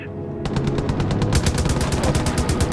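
Rapid machine gun fire from a turret in the video game Far Cry 5: a loud, dense burst of evenly spaced shots that speeds into a faster rattle, continuous to the end.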